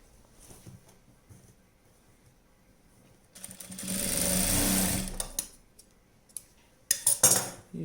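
A sewing machine stitches a night dress in one rapid, buzzing run of about two seconds, preceded by quiet handling and followed by a few metallic clicks and clinks.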